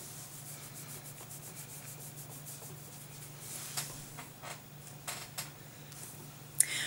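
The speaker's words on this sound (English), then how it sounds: "scrub off my brush" A makeup brush scrubbed clean makes soft, quiet rubbing and brushing strokes in a steady back-and-forth rhythm, and a few firmer swipes near the end, with no one talking.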